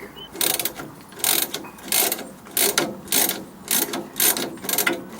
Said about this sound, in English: I found it's just about possible to get the ratchet inside the springs